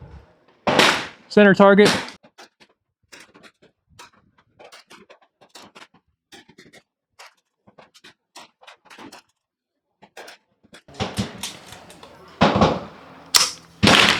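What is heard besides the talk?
CCI Stinger .22 LR rifle shots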